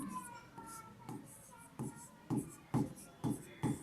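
Pen strokes scratch across paper in a run of short bursts, growing firmer toward the end, close and fairly quiet with faint background sound.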